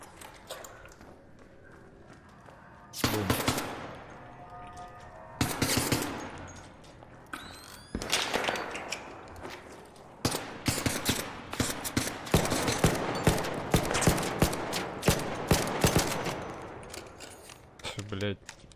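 Gunfire in the video game Arc Raiders, with a sniper among the shooters: loud, sharp shots and rapid bursts come in clusters that grow denser toward the end, while people talk over them.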